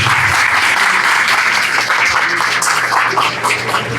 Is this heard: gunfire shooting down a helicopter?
no